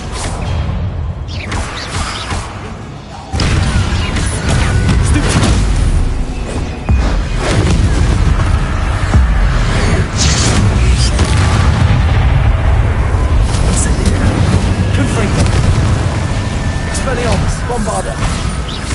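Bombarda blasting spells in a Harry Potter video game on PS5 Pro, a string of loud, booming explosions with whooshes, rolling almost continuously and densely layered with game sound effects.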